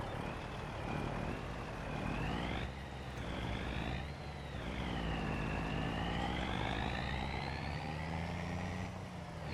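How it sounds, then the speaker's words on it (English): Wailing emergency sirens in a video game rise and fall in slow, overlapping sweeps over a steady low engine rumble, staying loud and continuous throughout with no voices. "I heard sirens."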